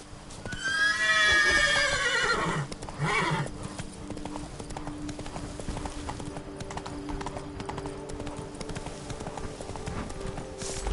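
Hooves of the horse Roach clip-clop at a gallop in The Witcher 3: Blood and Wine, with a loud neigh near the start, then a steady, fairly close hoofbeat rhythm continuing to the end.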